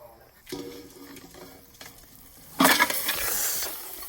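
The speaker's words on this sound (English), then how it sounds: "Always when frying your onions, add a little bit of salt." Onions with a little salt frying in cooking oil in a pan for beef nihari: a soft sizzle swells into a louder, bright hiss as ingredients hit the hot pan, with faint stirring clinks.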